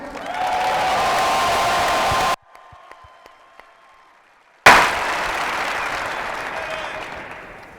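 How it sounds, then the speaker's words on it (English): At a basketball press conference, a room full of people applauds for James Jones in two loud bursts of steady clapping, split by a few seconds of near quiet. "Give a round of applause to Mr. James Jones."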